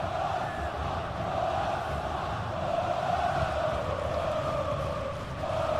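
A stadium crowd in a football video game keeps up a steady, distant roar of cheering and chanting that swells slightly and never drops away.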